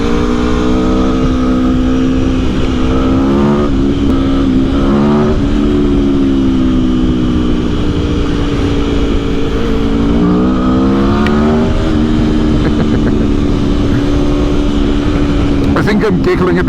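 A 2021 Aprilia Tuono V4 Factory engine drones loud and continuous on the move in fourth gear at around 70 mph, its pitch climbing and easing with the throttle, with a voice talking over it.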